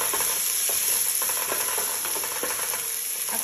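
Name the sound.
stirring onion, ginger and garlic sautéing in a pan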